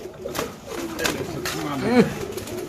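Pigeons coo close by, a soft throaty call swelling near the end, with people talking in the background.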